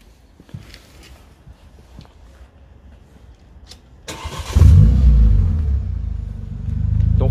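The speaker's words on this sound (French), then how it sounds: "On veut bien écouter le bruit mon Sylvain, clapet fermé avec clapet ouvert." A tuned car with its exhaust valve closed sits quiet, then its engine fires and roars into a loud, deep rumbling rev that settles into a heavy idle, close by, with faint clicks and movement beforehand.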